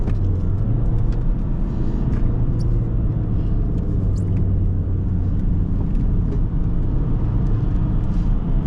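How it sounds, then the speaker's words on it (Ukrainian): A Citroen C5's engine rumbles loudly and steadily throughout as it is revved, close up, with a constant low drone and no speech. "Ну, тут ще раз перегазовочку."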